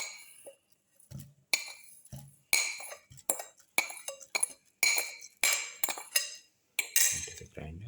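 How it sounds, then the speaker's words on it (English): Banana and plum pieces drop into a kitchen grinder jar as a quick series of close, sharp clinks and light knocks, with short pauses between them and no talk. "Put in the banana pieces and the plum pieces."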